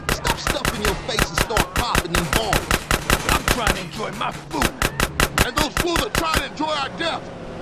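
Rapid bursts of gunfire in Grand Theft Auto: San Andreas, a dense stream of sharp, loud shots fired in quick succession, briefly pausing before resuming, over a faint game background.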